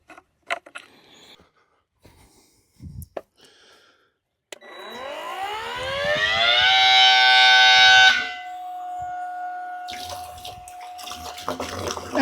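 A battery-powered pump spins up with a rising whine and pushes water out of its outlet into a drum, a loud flowing rush that then settles into a steadier hum after a few seconds of quiet knocks and handling.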